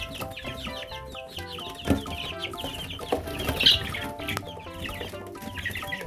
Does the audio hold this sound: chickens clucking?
yes